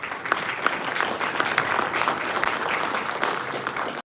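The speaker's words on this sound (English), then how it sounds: "Give them a round of applause." Audience applause at a cable industry vendor day event, a steady dense wash of clapping from a sizable crowd lasting about four seconds before cutting off abruptly.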